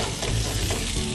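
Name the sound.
onion frying in hot olive oil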